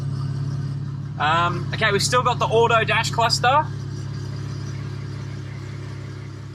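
A BMW N54 engine idles loud and steady with its exhaust removed, a continuous low drone running close throughout while someone talks over it for a couple of seconds.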